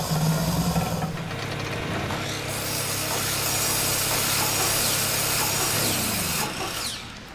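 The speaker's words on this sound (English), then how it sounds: "Wow, this grinder has really helped out." A grinder machine in the Ark video game runs in a steady, loud, rough grinding whir that holds evenly for several seconds before tapering off near the end, with no voices.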